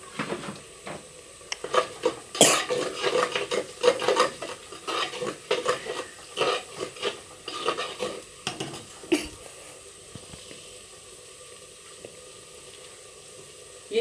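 Salt and turmeric fry in a pot while being stirred, with repeated close scraping and clinking strokes of a utensil over a faint sizzle, busy at first and then thinning to quiet near the end.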